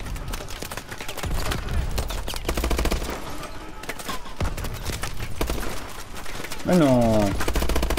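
Rapid gunfire crackles in the video game Call of Duty: Advanced Warfare, bursts of shots mixed with in-game effects and a rising electronic whine near the end, as a player speaks briefly.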